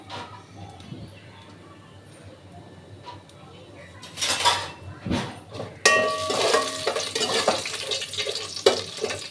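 Bay leaves and spices frying in oil in a pan for bagara rice. It starts quietly, then spoon-on-pan clatter and scraping stirs arrive, with bursts of sizzling hiss through the second half.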